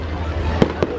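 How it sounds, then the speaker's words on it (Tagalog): Two quick fireworks bursts go off at a busy night bazaar, each a short muffled pop over the steady hum of the crowd, with voices present in the background. "May pa fireworks."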